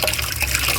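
Water running from a tap while fresh tilapia is rinsed, a brief steady splashing stream close by.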